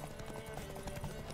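Rhythmic clip-clop of a horse's galloping hooves in The Witcher 3: Wild Hunt, steady and fairly quiet, with a game-like ambient bed beneath.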